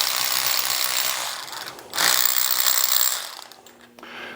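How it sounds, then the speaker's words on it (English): A ratchet working loose an 18 mm bolt on a brake bracket of a CFMoto Uforce during a portal installation, a fast continuous buzzing ratchet whir in two close bursts, loud and without talk. "there is one bolt here that is going to be an 18 millimeter that will need to be removed"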